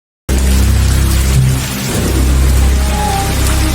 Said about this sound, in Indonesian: Film diawali dengan hujan badai di malam hari.